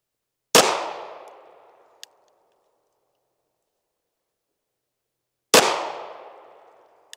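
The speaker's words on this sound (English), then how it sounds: "I'm gonna shoot a three shot group." A Sig pistol fires two sharp, loud shots about five seconds apart on a quiet range, each report followed by a decaying ring, with faint metallic clicks between.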